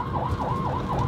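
A Mexican ambulance siren wails close and loud in a fast, repeating up-and-down sweep, with several cycles packed into about a second.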